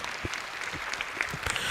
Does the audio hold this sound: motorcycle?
no